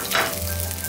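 Ginger, garlic and scallions stir-fry in a wok with a loud, close sizzle, a quick stirring scrape near the start and a low steady hum beneath.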